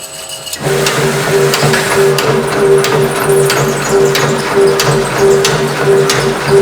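Reciprocating shaping machine running under automatic table feed, 1 millimeter per stroke, left to right: a steady mechanical hum with a constant tone and regular clacking strokes, starting abruptly and continuing loud and alone.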